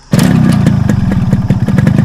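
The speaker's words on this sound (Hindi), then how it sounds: "उसने बाइक को किक मारी" A motorcycle engine catches with a kick start, then runs loud and near with a steady throbbing rumble and rhythmic pulses, as if pulling away, with no voices over it.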